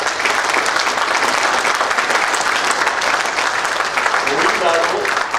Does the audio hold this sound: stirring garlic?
no